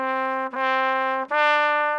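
Solo trumpet playing steady quarter notes from Ode to Joy, a short sequence of clear, bright, sustained tones with brief breaks between them, close and alone.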